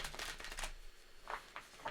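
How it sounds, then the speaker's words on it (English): A tarot card deck is shuffled close by, giving quick papery riffles and soft flutters in a couple of short bursts, quiet and alone. "Shuffle this deck a couple times"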